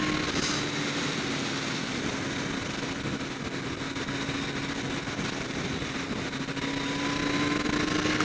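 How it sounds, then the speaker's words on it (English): A 2012 Kawasaki ZX-14R sport motorcycle engine drones steadily under throttle on an open road, a constant mid-pitched hum mixed with broad wind rush, with no talking. "When you crack the throttle open from a closed throttle, it's pretty smooth and predictable response."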